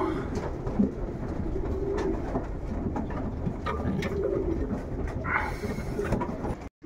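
Pigeons, including white ones, coo in repeated soft throaty calls inside a loft, layered over a steady low rumble of background noise that runs the whole time.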